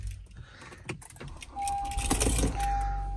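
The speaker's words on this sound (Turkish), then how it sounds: "CR-V'mizin anahtarı böyle bir şey. Bu da anahtarlığımız, değerli eşimin hediyesi." Honda CR-V car keys on a keychain jangle up close in light metallic clinks, followed by a steady electronic beep tone from the key or car.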